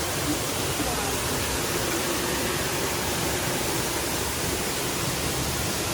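Steady, dense roar of rushing water from directly beneath Düden Waterfall in Antalya, a loud and unbroken wash of noise filling the whole clip with no clear voices.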